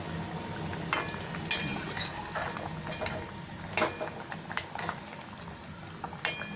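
Boneless fish curry bubbling in a pot, with a steady simmering hiss and scattered clinks and knocks throughout.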